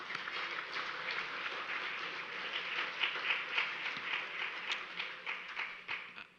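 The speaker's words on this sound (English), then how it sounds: "Let's have a round of applause for our sponsors." Diners at a GMCC legislative dinner applaud the sponsors, a faint, distant patter of clapping that holds steady and then fades out.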